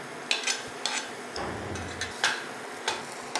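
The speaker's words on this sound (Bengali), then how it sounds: "রসুন কুচিটা একটু হালকা ভেজে নেবো" Finely chopped garlic fries gently in melted butter, a soft, low sizzle broken by sharp ticks as a spoon or spatula taps the pan every half second or so.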